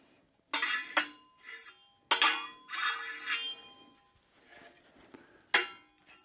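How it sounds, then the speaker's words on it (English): Ash and debris tipped back into a wood stove, giving a few sharp metallic clanks and scraping rattles spread over several seconds, close and moderately loud with quiet gaps between. "I'll dump it back in the wood stove."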